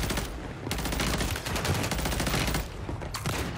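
Rapid automatic gunfire in the Warzone video game, loud and close, dense bursts of shots rattling almost continuously with brief gaps, no voices.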